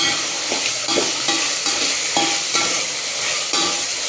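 A spoon stirs a spice mixture of turmeric and salt frying in a pan, with repeated scraping strokes over a constant close sizzle.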